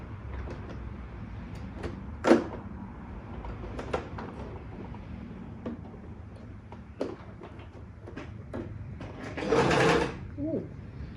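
Sewing machine running a straight stitch along a dress seam: short mechanical whirring and clacking bursts, close by, with a louder run near the end.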